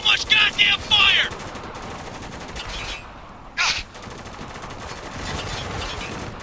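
Heavy automatic gunfire in a Spec Ops: The Line firefight, rapid bursts of machine-gun fire in quick clusters at the start and again midway, with shouting soldiers and battle ambience between volleys.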